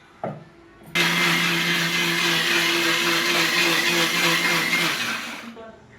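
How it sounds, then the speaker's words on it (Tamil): A mixer grinder runs at full speed, grinding spice paste for a fish curry: a single loud, steady whirring roar that starts abruptly after a brief knock, holds for about four seconds, then winds down. "இப்போ போட்டு நல்லா அரைச்சிக்கணும்"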